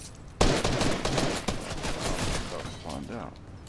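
Gunfire aimed at the player in a squad shooter game: a sudden burst of rapid shots followed by a sustained volley of gunfire and impacts, loud and dense.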